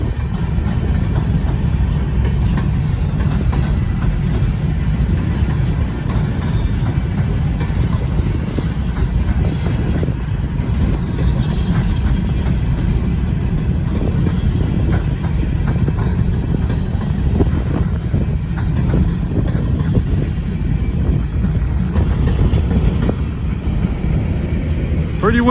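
Freight train of oil tank cars rolling past on a windy day, a steady, loud low rumble with wheel noise and wind buffeting that holds throughout.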